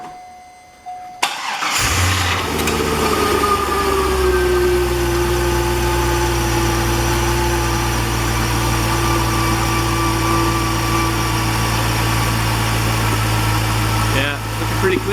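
2004 Corvette engine cranking briefly, catching and settling into a steady, loud idle that runs on close by, with a faint whine layered over the rumble.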